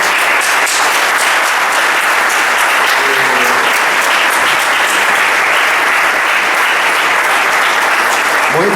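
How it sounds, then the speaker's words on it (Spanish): Loud, dense applause from an audience welcoming journalist and writer Modesto Guerrero to a talk on chavismo, a sustained wash of many hands clapping that stays strong throughout. "Démosle un aplauso de bienvenida."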